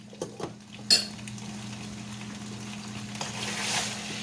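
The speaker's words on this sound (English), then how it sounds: "We're going to stir our sauce" Spaghetti sauce is stirred in a pot on a stove, giving a few soft clinks and scrapes of a utensil against the pot over a steady low hum, with one sharper knock near the start.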